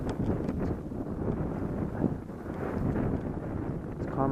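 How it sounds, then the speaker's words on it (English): Strong, gusty wind buffets the microphone beside a lake on a cold, snowy day, a continuous loud rumbling roar with fluctuating gusts and no voices. "Nasty wind though."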